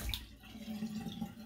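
Tap water runs steadily to rinse out a shaving soap container, a soft close splashing flow that continues for the whole moment.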